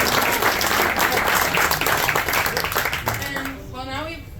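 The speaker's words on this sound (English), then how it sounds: "let's give Kalia one more big round of applause" An audience applauds a bluegrass band member named Kalia, with dense clapping and cheers that fade toward the end as a voice starts talking over the dying applause.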